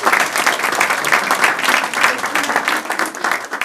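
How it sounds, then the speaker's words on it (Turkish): Audience applause follows a heartfelt prayer at a Turkish gathering, a dense, loud wash of clapping that holds steady throughout. "Bunu alkışlayın."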